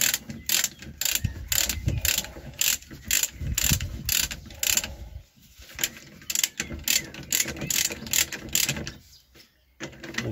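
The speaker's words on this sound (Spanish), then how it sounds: "vamos a ir apretando los tornillos." Bolts are tightened on a bearing puller with a ratchet, giving rapid bursts of close metallic clicks in repeated strokes with brief pauses between them.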